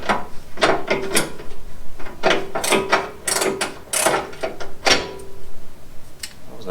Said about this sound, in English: Same thing, reverse the bolt. I'm working on this bolt.